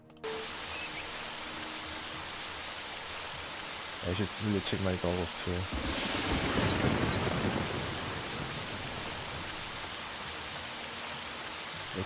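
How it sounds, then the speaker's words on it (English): A thunderstorm with heavy rain in the Jagged Alliance 2 video game, a constant hiss of downpour with a rolling rumble of thunder building and fading midway, while someone briefly talks over it. "It's a thunderstorm."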